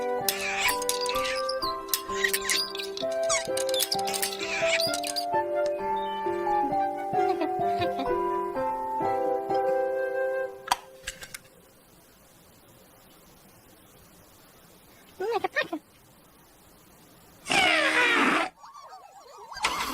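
Toy trumpet from a children's garden show plays a bright, tinkly run of tones for about ten seconds, followed by quieter squeaky bursts and short noisy blasts near the end.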